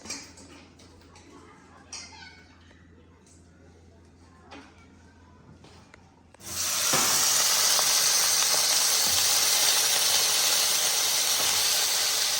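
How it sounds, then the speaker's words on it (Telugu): Brinjal pieces dropped into a little hot oil while making a roasted eggplant chutney, bursting into a loud, steady frying sizzle halfway through after quieter kitchen clatter, continuing dense and close to the end. "ఒక హాఫ్ చెంచా నూనె వేసి ఈ వంకాయ ముక్కలు వేయాలి"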